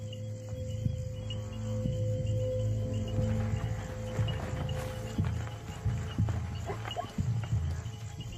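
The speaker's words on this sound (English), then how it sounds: "The sound of the herd draws one of the lionesses closer." Zebra herd moving through grassland at night, soft irregular hoof thuds and rustling under a constant loud chorus of crickets.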